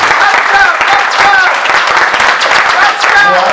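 An audience at a ceremony bursts into loud, sustained clapping and cheering, with a few voices rising and calling out above the steady applause.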